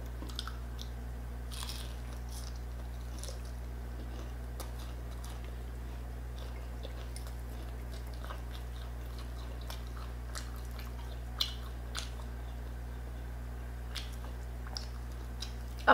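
Crispy butterfly squid and pork belly being bitten and chewed at a Filipino mukbang meal, with soft crunches and occasional sharp crisp bites over a steady low hum, close to the mic and with no talking.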